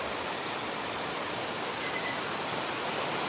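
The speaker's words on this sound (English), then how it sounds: "It's raining." Heavy monsoon-season rain falls across Phnom Penh, a constant, even wash of broadband hiss with no voices.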